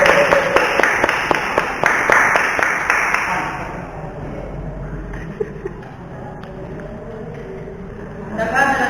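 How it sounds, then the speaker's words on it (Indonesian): Applause for the opposing team at a school debate on social media use at an early age: a burst of clapping from an audience for the first few seconds, then fading into room murmur and talk. "Kita berikan tepuk tangan kepada tim kontra"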